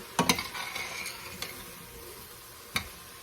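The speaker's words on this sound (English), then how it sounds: "But I'm going to stir that up." Red beans and rice get stirred in a pot under a soft background sizzle, with a couple of sharp spoon scrapes against the pot near the start and another near the end, close and fairly quiet.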